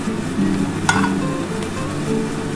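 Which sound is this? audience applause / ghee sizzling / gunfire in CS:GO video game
ghee sizzling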